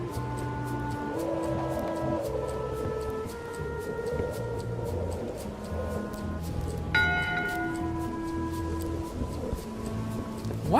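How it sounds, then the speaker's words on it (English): A single bell tolls in Return to Monkey Island to mark voting hour, ringing out with a sustained tone over a steady ambient game soundscape, with no talk. "One bell. Voting hour."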